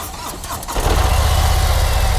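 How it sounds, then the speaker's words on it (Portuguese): A Harley-Davidson Ultra CVO motorcycle is started with the key: a brief starter whir, then the engine catches and settles into a loud, close, steady low idle. "girar essa chave e ligar, né, a ignição para você dar partida na moto"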